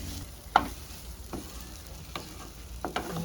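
Jackfruit curry being stir-fried in a pan, a soft steady sizzle broken by several sharp scrapes and clinks of a spoon against the pan, close and quiet.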